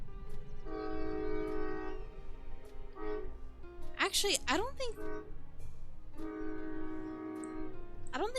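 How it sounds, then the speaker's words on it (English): A train in the video game Final Fantasy XIV sounds its horn in two long, loud blasts, with a streamer's voice and sharp bird-like game sounds heard between them. "Oh, there's the train. The train says hello."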